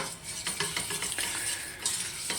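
A white roux sauce stirred in a pan, the spoon scraping in quick irregular strokes over a soft steady sizzle, close and alone without any voices.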